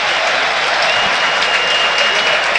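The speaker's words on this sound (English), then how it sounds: "the Chelsea fans on their feet applauding Estevao as he comes to a little bit of a warm-up" Chelsea fans in a Premier League stadium applauding a substitute warming up during a match against Crystal Palace, making a loud, dense, sustained roar of clapping from a large crowd.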